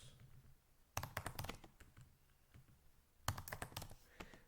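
Keys clatter on a computer keyboard in two quick bursts of typing, ending in presses of the Enter key, close and crisp against a quiet room with no talking.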